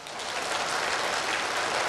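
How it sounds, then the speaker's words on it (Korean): Church congregation clapping at a pastor's prompt, a dense, even roar of many hands, loud and continuous with no voices over it. "맞으면 박수 좀 쳐봐."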